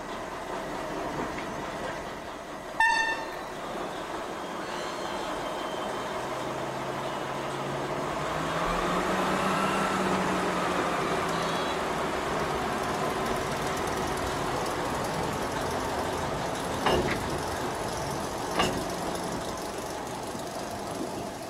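Small Orenstein & Koppel DB class 332 locomotive built in 1963, a diesel rumble that swells and fades as it works, with a sharp clank early on and a couple of metallic knocks later.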